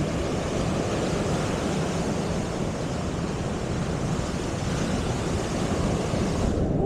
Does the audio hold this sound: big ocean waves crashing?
yes